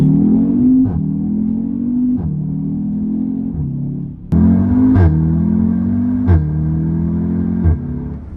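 Audi TTS Mk3 with 310 hp and a short-geared automatic in sport mode accelerating hard, engine note rising then dropping at each quick upshift, loud and close from inside the cabin, with a brief dip before the next gear pulls.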